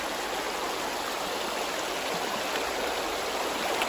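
Cold water of the Russian River flowing steadily in a continuous broadband rush, close and even throughout with no voices.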